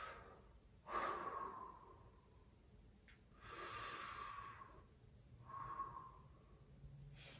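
Deep breathing during a lower-limb mobility exercise: three slow, quiet inhales and exhales, close to the microphone and rather soft, each breath a broad airy rush with pauses in between.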